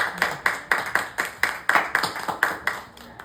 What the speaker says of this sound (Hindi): उनके लिए बहुत ज़ोरदार तालियां।